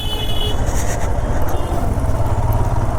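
A big motorcycle engine rumbles loud and close as it edges through a crowd at a railway gate in rural West Bengal, with a steady drone and other traffic noise around it.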